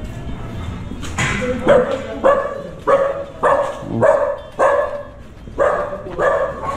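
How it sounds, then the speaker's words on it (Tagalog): Several dogs bark repeatedly at close range, about ten sharp barks in an uneven rhythm, some overlapping, with faint background noise. "Ito iba-ibang breed ng aso, marami pa."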